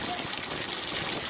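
Water from a garden hose splashes and sprays in a steady, continuous rush, loud and close for the whole moment.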